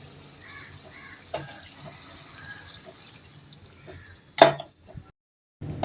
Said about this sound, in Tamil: தண்ணி அளந்து ஊற்றலாம்